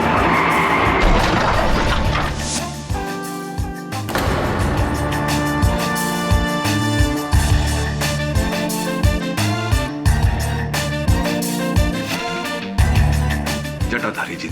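A car skids with squealing tires and ends in a loud crash and impact, set in a dramatic courtroom drama scene; dense, busy effects with music-like layers and repeated sharp hits throughout.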